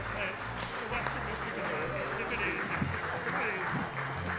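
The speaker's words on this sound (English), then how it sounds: "How about a big round of applause for tonight's contestants?" Studio audience applause for the contestants on a live sports talk show, a moderate wash of clapping blended with murmuring voices and talk, fairly distant and steady.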